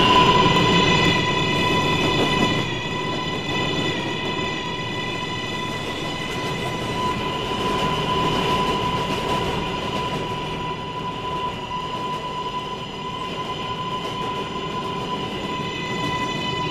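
A video game subway train rumbles steadily along the tracks, with a sustained tonal hum and faint squealing wheels throughout. Nobody speaks.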